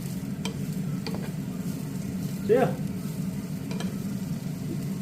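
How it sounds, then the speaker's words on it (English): Chopped leeks fry in a pan with a steady low sizzle, broken by a few scrapes and clinks of a spoon stirring, while a voice speaks briefly. "we're just going to fry these off for about 3 to 4 minutes."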